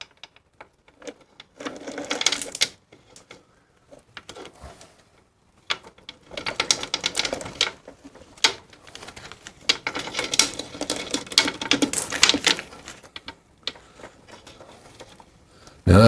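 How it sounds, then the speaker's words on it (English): Old rear chain pulled through by hand on a Harley Davidson Shovelhead, feeding the new chain onto the sprockets with close, bursty ratcheting metallic clicks and rattles in uneven stretches. "pull the old chain, which will automatically feed the new chain onto the bike"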